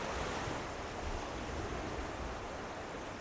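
Ocean surf washing steadily against a volcanic island shore, a continuous broadband roar of breaking waves heard alone with no voices, loud and close throughout.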